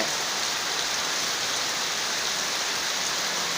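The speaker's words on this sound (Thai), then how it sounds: "นี่คือฝนแท้ครับ ไม่ใช่ฝนเทียม" Real rain pours down steadily in a continuous, even hiss, loud and close, with no voices.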